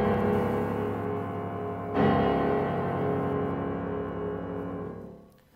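Bass-heavy romantic piano passage by Alkan, a deep open fourth held as a pedal point with a sustained chordal texture above it, loud and resonant throughout, then dying away at the end.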